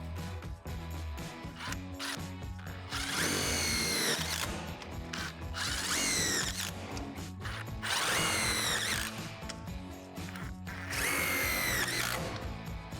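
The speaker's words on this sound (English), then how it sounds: "Then secure with the self-tapping screws." A power drill drives self-tapping screws through a center frame pad into the backboard of a Lifetime 52-inch portable basketball system, in four loud whirring bursts of a few seconds each, with steady background music between them.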